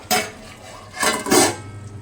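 A lid clatters onto a pan of cashew paneer masala in two or three quick metallic clanks, close and sharp, amid a quiet room.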